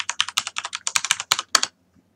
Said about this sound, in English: when you're typing in your password here, it's not going to display it, but just know that it is keeping track of what you're entering